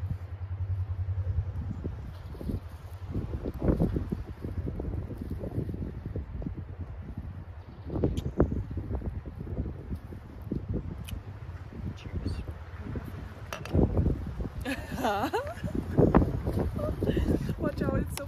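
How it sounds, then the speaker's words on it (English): Strong gusts roar and buffet the microphone at a sunset overlook in Prescott, Arizona, a continuous rumble with bursts and rustling while people talk nearby. "Watch out, it's so fucking windy."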